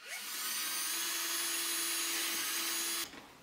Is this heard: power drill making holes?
yes